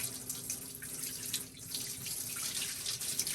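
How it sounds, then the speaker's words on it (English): Tap water runs steadily into a pitcher that will go into the bottom of a Lonestar Grillz offset smoker, making a close, continuous splashing hiss with no voices. "So we're going to put probably a couple more of these pitchers of water in the bottom of the smoker."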